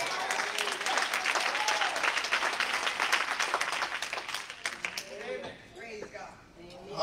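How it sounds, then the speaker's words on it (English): A church congregation claps hands in praise during a worship service, dense sustained applause filling most of the stretch, then thinning out as voices rise near the end. "Somebody give the Lord a hand clap of praise."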